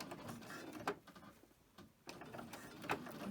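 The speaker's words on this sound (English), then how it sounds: "And I've just got my regular foot on here. Just start out slow." A sewing machine fitted with a regular presser foot sews a coin purse slowly, producing short, clattering runs of stitching close by, with a brief pause between them and no speech.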